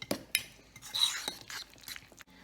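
A spoon scrapes and clinks against a bowl while mashed bananas are mixed with milk and ground cinnamon, giving a few sharp taps and soft scraping strokes, close and quiet.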